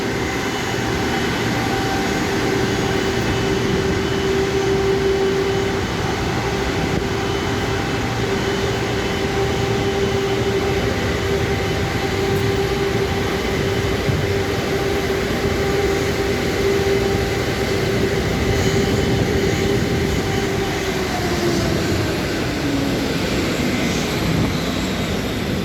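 A Garuda Indonesia Airbus A330-200 taxiing nearby to its parking stand, its engines droning steadily with a sustained whine that drops in pitch near the end as it slows.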